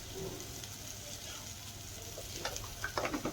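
Turmeric and coriander powder fry gently on a low flame in a pan, a quiet, steady sizzle with soft stirring scrapes growing a little busier toward the end.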